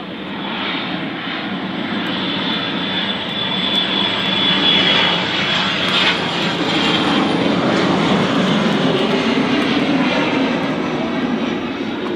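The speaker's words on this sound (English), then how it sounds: "Looks like a Citation. And a small aircraft." A Cessna Citation business jet at Manchester Airport gives a loud, steady engine roar that swells slightly and holds for about twelve seconds, with no talk over it.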